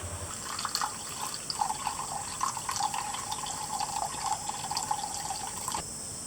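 Distilled water pours steadily into a container for cold process soap making, a soft continuous trickle and splash that runs for about six seconds and then cuts off.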